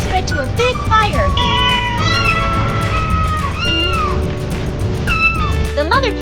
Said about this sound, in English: The mother cat was extremely scared when she heard her kitten scream and saw smoke rising.